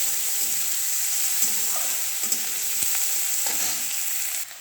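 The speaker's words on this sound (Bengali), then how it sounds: "হ্যাঁ, কাটা পেঁয়াজগুলো ফ্রাই করছি।" Chopped onions frying in hot oil for mutton keema, a loud continuous hiss and crackle with faint scrapes of stirring underneath.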